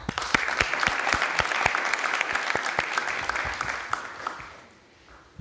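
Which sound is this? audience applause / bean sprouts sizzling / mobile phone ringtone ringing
audience applause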